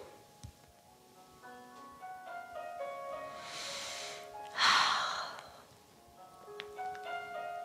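Slow breathing during a qi gong exercise: a soft inhale, then a louder, breathy exhale in the middle of the clip, heard over gentle background music.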